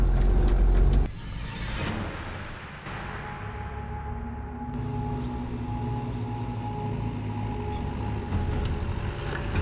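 Low engine drone from a 4WD with rear locker engaged, held on hand throttle while crawling up a loose, slippery high-country track, a steady rumble with shifting mechanical whine after a brief louder opening.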